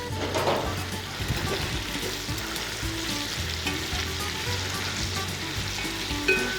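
Bacon frying in a pan of rendered grease, giving a steady, close crackling sizzle with dense popping that runs without a break from start to end.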